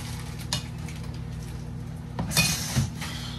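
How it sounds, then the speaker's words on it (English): Ground turkey for tacos being stirred in a pan with a spoon, soft scraping and clinks over a steady sizzling hum, with a couple of louder knocks near the end. "Stir your meat up."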